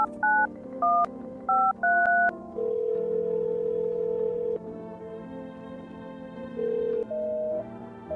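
A run of telephone keypad tones in the video game No, I'm Not A Human, several short paired beeps in quick succession followed by longer held tones, clear and close with no talking.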